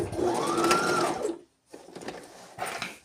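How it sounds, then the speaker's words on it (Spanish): A sewing machine stitches trousers with diagonal pockets: a steady mechanical whir runs for about a second and a half, stops briefly, then resumes in shorter, uneven bursts, close and clear with no talking. "Acomodamos muy bien todo y continúo cosiendo."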